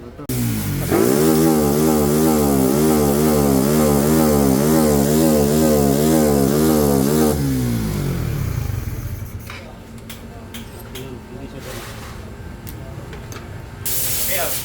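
A Raider Blade motorcycle engine revs loudly in a steady rising and falling pattern near the mic, then drops to a rough idle with a few sharp pops and crackles near the end.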